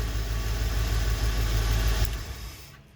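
An RV engine idles close by with a low, steady rumble and faint vibration, then dies away in its last second.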